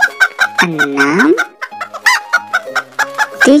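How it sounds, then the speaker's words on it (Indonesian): Chickens clucking loudly and close in a garden, rapid repeated clucks with a drawn-out squawking call in the middle, alone without any talk. "Ada tujuh ayam."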